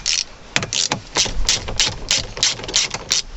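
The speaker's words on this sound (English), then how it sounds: "it's a T50 Torx bit. Put it in there. Loosen it off." A ratchet clicks in quick, even bursts as it loosens a T50 Torx bolt on a Peugeot 206 steering wheel, about nine close, crisp strokes with no one talking.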